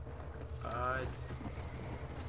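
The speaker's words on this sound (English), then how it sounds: "Wait, is that your horse, Jack?" Horse hooves clip-clopping in the video game Red Dead Redemption, a steady, fairly faint trot under a low rumbling background, with a brief animal-like call partway through.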